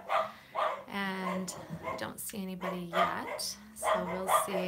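A household's pet dogs bark and yip in short bursts in the background while someone talks over them, the barking rising and falling across the moment.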